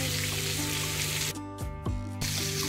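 Stuffed bangda (mackerel) fish fries in a pan over low heat, giving off a steady, close sizzle and crackle with a brief shift partway through.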